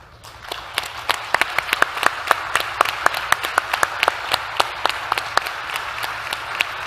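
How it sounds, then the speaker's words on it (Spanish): Sparse applause from a conference audience, with distinct individual claps ringing out in a loose, fairly quick rhythm that builds after a quiet start and carries on without talk. "Y quiero pedir un aplauso para ella y para todos los servidores públicos que van en esa línea."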